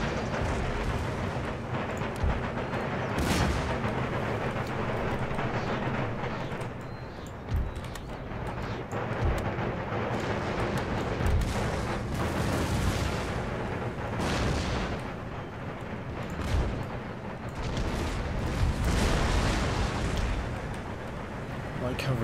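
Artillery in the video game Empire: Total War fires round shot, with repeated booming cannon reports and distant rumbling blasts over a continuous din of battle. Someone talks over much of it.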